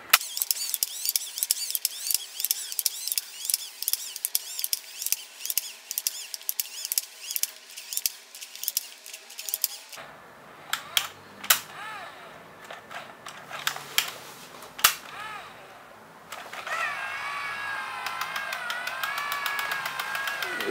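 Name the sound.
Yashica MD 135 AE film camera automatically rewinding film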